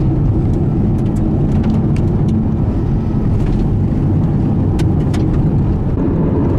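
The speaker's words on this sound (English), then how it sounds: "New truck." A new truck driving along dirt roads and mountain switchbacks, with a steady, loud low engine and road rumble filling the whole stretch, buffeted by wind on the microphone and no speech.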